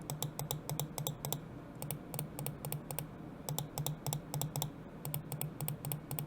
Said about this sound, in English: In terms of the the main click's audio feedback, I'll give you a quick little sound test here.